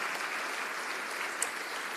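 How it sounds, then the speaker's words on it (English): Audience at a national pro-life conference gives a brief burst of applause, an even, distant-sounding patter of many hands at low volume. "Give them a clap."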